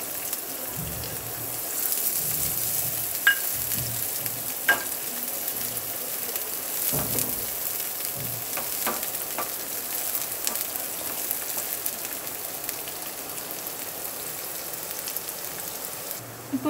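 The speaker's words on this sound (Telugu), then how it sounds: "అందులో ముందుగా తీసుకున్న ఆనియన్స్ ఫ్రై" Onions fry in hot oil for an omelette, giving a steady, fine hiss with scattered pops and crackles throughout.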